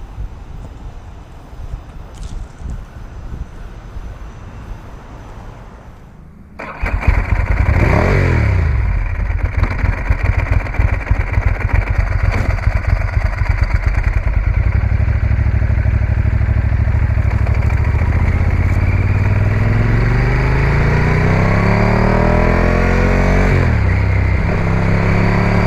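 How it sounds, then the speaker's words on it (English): Ducati 998 V-twin motorcycle engine starts after near silence, then revs loudly and repeatedly, high and sharp, with the metallic rattle of an open dry clutch clattering underneath throughout. "What you're going to hear is a high revving variation of a V-twin."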